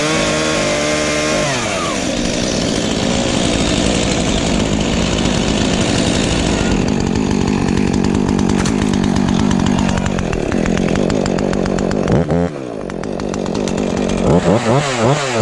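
Husqvarna 450s and Stihl MS 251 chainsaws running loud and close, a continuous buzzing engine roar that revs and drops in pitch, with a sudden dip near the end before revving again.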